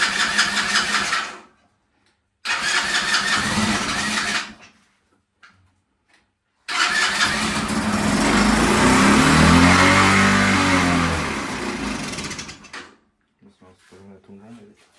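A mini Harley Davidson motorbike fitted with a new silencer cranks in short loud bursts, then catches and runs with a steady rumbling idle for several seconds before cutting off, with faint talk afterward.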